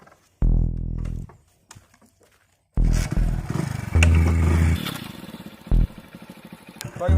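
A motorcycle engine starts and runs loud and close, rumbling and revving unevenly, with clattering knocks and a short earlier burst of engine noise before it.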